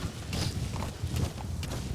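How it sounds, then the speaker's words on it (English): A horse gallops in Metal Gear Solid 5: The Phantom Pain with rapid, rhythmic hoofbeats over a steady game ambience, close and moderately loud. "Let's try and run with the horse."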